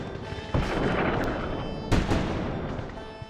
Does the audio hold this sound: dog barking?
no